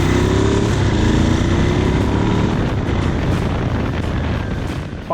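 A Ducati 749 motorcycle engine revs loudly and close by in a steady, raw roar that holds for about five seconds, with a rising rev at the very end and no talking.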